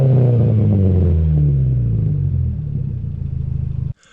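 Modified exhaust on a first car revving, a loud close rumble with a falling engine note that tapers off over a few seconds before cutting out abruptly.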